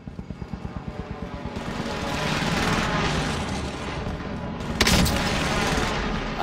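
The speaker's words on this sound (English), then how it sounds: "Authorizing airstrike on my vector. This is Phoenix 3. Strike inbound." Airstrike explosions in Call of Duty: Warzone open with a rapid thudding barrage and swell into a sustained, rumbling roar. A sharper blast hits near the end and no one talks.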